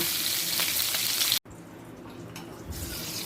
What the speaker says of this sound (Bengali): এই সময় পটলগুলো চার পাঁচটা হালকা করে ভেজে নেব